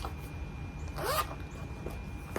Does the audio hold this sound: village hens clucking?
no